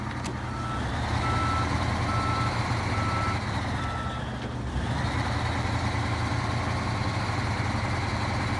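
A truck idles in the SnowRunner video game, its low engine rumble running steadily beneath a string of regular high reversing beeps that pause briefly midway before the engine drone carries on alone.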